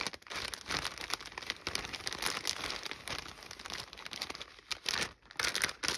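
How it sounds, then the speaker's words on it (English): Folded paper items slid into an envelope, giving a continuous rustling and crinkling of paper at close range, uneven in texture and fairly quiet, with no voices. "once everything is folded up to about the size of your envelope,"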